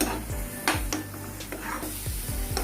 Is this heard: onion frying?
yes